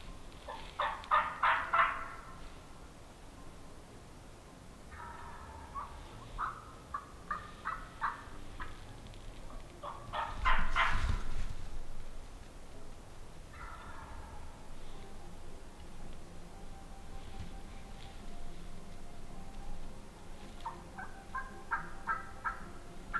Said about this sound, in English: all of a sudden a turkey, he hammers and he is right on top of us